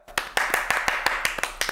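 During a talk show episode, hands clap for Anila in a quick, regular rhythm, about ten sharp claps close by with no speech.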